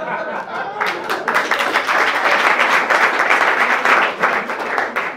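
An audience at a late-night talk show bursts into loud, sustained applause, dense clapping building quickly and holding for several seconds before easing slightly at the end.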